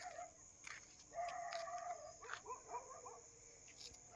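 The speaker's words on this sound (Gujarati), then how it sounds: "બધો ખાસો બધો કૂતરો ભાઈ." A dog on a village road at night gives a few faint, distant barks and yelps against a quiet background, and other farm animals may be calling nearby.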